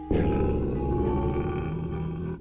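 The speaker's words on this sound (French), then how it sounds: "Ne me dites pas que vous avez un lion à la maison." A lion in a TV animal documentary lets out a loud, sustained roar, deep and rumbling, filling the moment alone without any talk over it.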